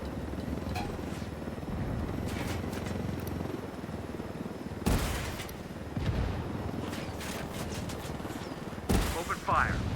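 Gunfire in a tactical shooter video game, with bursts of rapid shots and heavier booms breaking out at intervals over a constant low engine-like rumble. Shots come in clusters, mid-distance to close.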